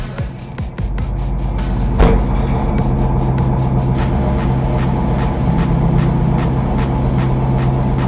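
The Lustang race car idles and revs as its engine warms up on the NOLA Motorsports Park track during a 24 Hours of Lemons endurance race. A loud, steady, close engine drone with a sharp rhythmic ticking pulse and one brief bang.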